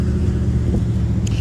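A tuned 2017 Subaru WRX STI drones with dense, low engine and road noise under hard acceleration, heard from inside the car with wind noise. The sound stays loud and steady through a short burst.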